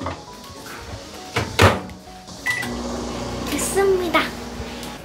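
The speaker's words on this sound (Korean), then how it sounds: "이제 얘를 전자레인지가 돌려줄 건데요" A microwave oven runs for two minutes heating a milk-and-rice-cake mixture in a home kitchen, giving a low steady hum with a clunk and small clicks, while a child and an adult talk nearby.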